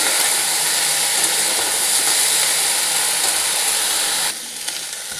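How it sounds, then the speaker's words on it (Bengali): Loud, steady sizzling of vegetables frying in a pan, a continuous hiss that drops slightly near the end. "দেখুন, বেশ কিছুটা ভাজা হয়ে গেছে।"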